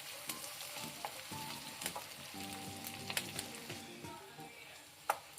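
Onions fry in a pan for a bitter gourd stir-fry, a soft steady sizzle with occasional scrapes and taps of a spatula, faint and close, with no talking.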